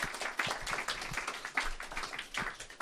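Audience at a café-debate on Viking sagas clapping in a dense, continuous wash of applause lasting a few seconds, moderately loud and steady, with no talk over it.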